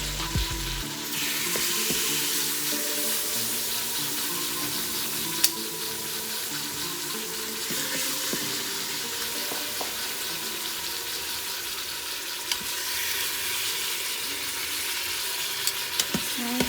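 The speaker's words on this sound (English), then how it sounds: "Just want to brown a few at a time. Want to get that sear on it." Beef short ribs sear a few at a time in a hot pan, giving a loud, dense, continuous sizzle with occasional small clicks and pops throughout.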